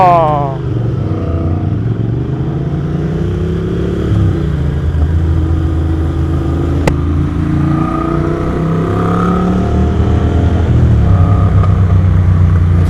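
A motorcycle engine drones and shifts pitch as it rides along a potholed road at night, with occasional clatter from the rough surface and a voice talking over it.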